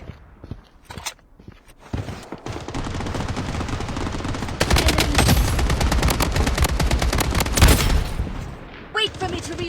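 AK-47 fire in the shooter game BloodStrike: scattered single shots and short bursts give way to sustained, loud automatic fire, with brief pauses and a few final shots near the end.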